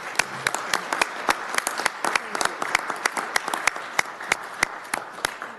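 Senators clap for the pages on the floor, with a steady round of applause and sharp individual claps standing out, sustained throughout at close range.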